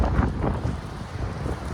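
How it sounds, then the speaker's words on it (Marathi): Strong wind blowing at a waterfall, a continuous rough buffeting roar across the microphone with the low rush of falling water beneath it, steady and close throughout. "म्हणजे हवा तर आहेच इथे"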